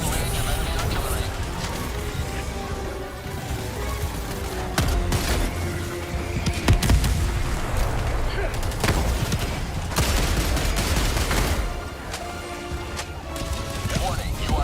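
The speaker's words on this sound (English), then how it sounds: "Warning, you are in range of enemy artillery." Enemy artillery and heavy gunfire in the shooter game Helldivers 2: a dense, continuous barrage of booms and rapid shots with sharp impacts throughout, loud and close, with game voices heard over the fighting.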